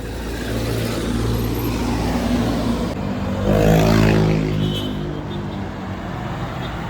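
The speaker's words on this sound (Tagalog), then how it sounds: "Marami din dumadaan dito na bus mga kadrok. Mga bus na papuntang Manila." Road traffic near Carmona heading toward Manila, with buses and jeepneys passing. Engines rumble steadily nearby and one vehicle swells loudly as it drives past, then fades.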